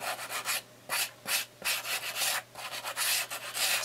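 Leather journal corners being rubbed in all directions to distress them, a close, steady scratchy rubbing in repeated strokes with short pauses between bursts.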